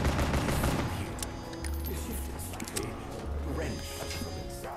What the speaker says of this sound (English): I'm just spamming this weapon.